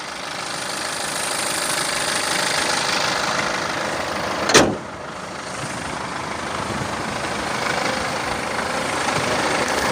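A 2013 BMW X3 F25 xDrive20d diesel SUV idles steadily nearby with a continuous clattering rumble; a brief sharp whoosh or knock cuts through about midway before the even idle resumes.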